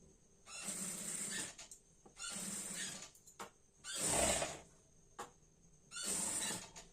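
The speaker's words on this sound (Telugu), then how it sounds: "మళ్ళీ నేను నార్మల్ పాదం మీదనే కుడుతున్నాను" A sewing machine with a normal presser foot stitches a padded blouse in several short, quiet bursts of rapid whirring, with brief pauses between runs.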